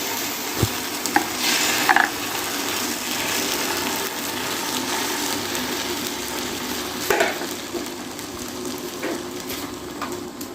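An egg and bread breakfast frying in a pan makes a continuous loud sizzle with a few soft clinks and scrapes of turning, close by and without speech.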